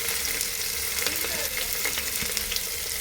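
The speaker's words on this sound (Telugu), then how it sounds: "ఉల్లిగడ్డ మంచిగా వేగాలండి, బ్రౌన్ కలర్లోకి వచ్చాయి." Thinly sliced onions frying in hot oil for chicken pulao, giving a steady, close crackling sizzle with scattered pops throughout, no voices.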